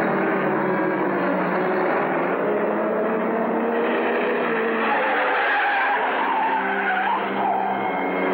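Car tires skid in a long, loud, continuous squeal lasting several seconds, the screech wavering in pitch with engine noise beneath it, with no voices.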